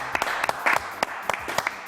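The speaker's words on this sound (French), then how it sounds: "on applaudit très très fort Sandrine" A small studio audience on a television news show claps, a sparse, uneven patter of distinct hand claps that stays close and fairly loud for a couple of seconds.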